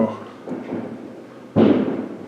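Fireworks go off outdoors on New Year's Eve in Hafnarfjörður, Iceland, heard from indoors as muffled thuds and one sharp loud bang followed by a rumbling tail, with someone speaking nearby.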